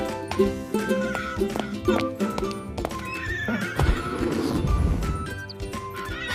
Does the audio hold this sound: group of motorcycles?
no